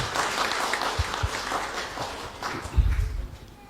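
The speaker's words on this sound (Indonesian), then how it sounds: "Sekali lagi mohon diberi aplaus untuk vokal grup." A church congregation at a baptism service applauds a vocal group with dense, steady clapping that fills the room at moderate loudness and fades slightly toward the end.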